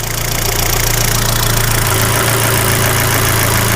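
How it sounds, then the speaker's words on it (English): A car engine idles steadily and loudly up close with a low rumbling tone, its note shifting slightly partway through. "did you hear the engine note change?"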